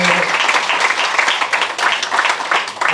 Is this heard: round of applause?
yes